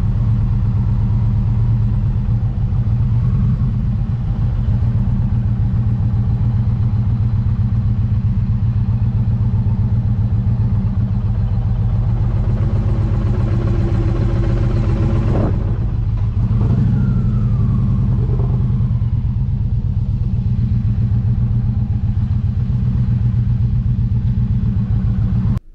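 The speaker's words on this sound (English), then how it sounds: "Here's a clip of me lane splitting coming back from the El Diablo run in San Felipe, Mexico, as we're crossing the border between Calexico and Mexicali." An Indian Challenger motorcycle lane splitting through traffic at the Calexico–Mexicali border crossing gives a constant loud low rumble, with a steady engine drone and passing traffic noise throughout, dipping briefly midway.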